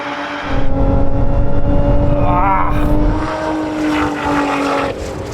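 Loud engine roar with a rising whine as a sports car launches hard in a drag race, revs climbing then settling, close by.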